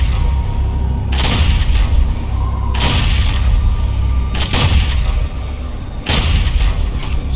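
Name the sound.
sniper weapon fire in the video game Doom Eternal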